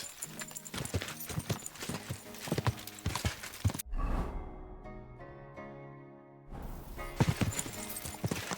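Rhythmic horse hooves clip-clop steadily in Kingdom Come: Deliverance II, stop during a brief neigh and a quieter musical stretch, then resume.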